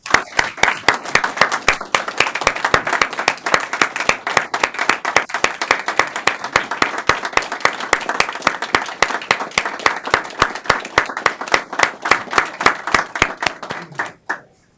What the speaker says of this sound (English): I want to ask everyone to please join in a round of applause for John